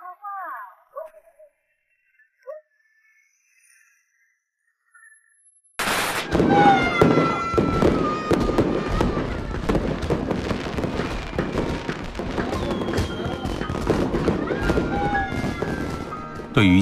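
Bright fireworks bursting close by in a Chinese coastal salt-field town, a dense, continuous crackle of rapid pops and bangs that starts abruptly after several seconds of near silence and stays loud to the end.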